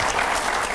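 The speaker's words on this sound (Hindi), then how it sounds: "जोरदार तालियां होनी चाहिए" Audience applause during a televised Hindi studio debate, a dense burst of many hands clapping, loud and close, brief and continuous.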